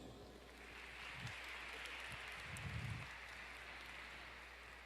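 Applause from a church congregation at a Christian youth week service: a steady, diffuse patter of many hands clapping, heard at a distance and fairly faint throughout.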